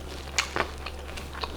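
A quiet, close bite into bread dipped in creamy shrimp and corn chowder, giving a few soft crunchy chews over faint background hiss.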